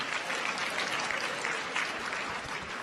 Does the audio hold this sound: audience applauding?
yes